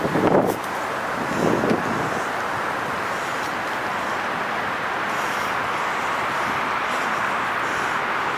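Road traffic about 20 yards away heard from a muddy footpath along an old tramroad, a steady broadband roar with wind noise on the microphone and brief louder bursts near the start.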